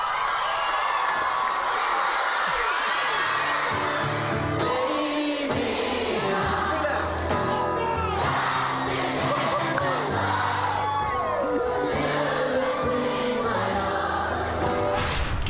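Schoolchildren at a surprise school gig in Auckland cheer, shout and sing along as a dense, loud crowd roar that holds steadily throughout.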